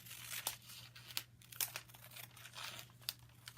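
Paper being cut and crinkled by hand while making a paper bag craft, with several short crisp snips and rustles spread across a quiet background with a low steady hum.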